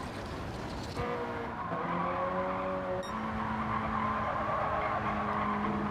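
Car tires squeal at the limit of grip through a corner in a racing game, a sustained tonal screech shifting pitch over the engine drone, loud and continuous.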